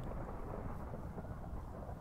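Continuous rumbling thunderstorm with steady rain in Minecraft, a dense, loud wash of low storm noise filling the whole stretch without any voices.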